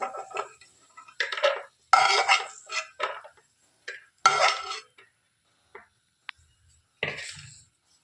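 Fried cashews are scooped from a pan onto a plate with a metal utensil, making several sharp scraping and clinking bursts of metal on cookware with short pauses between them and a single light tap near the end.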